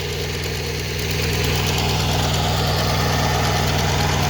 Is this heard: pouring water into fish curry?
no